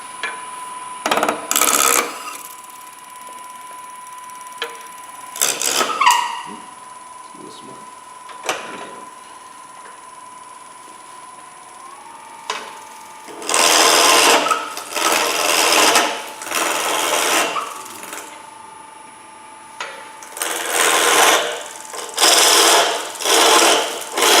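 A skew chisel cutting into spinning wood on a lathe at a woodturners' demonstration, giving bursts of rough shaving and rasping cuts between quieter stretches with the machine humming, while someone talks throughout.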